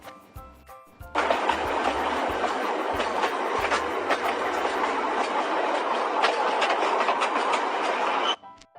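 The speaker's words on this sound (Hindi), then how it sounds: "ये ट्रेन थी।" A loud train rumbles past continuously with dense rattling and clattering, steady for several seconds after a quiet start, then stops abruptly.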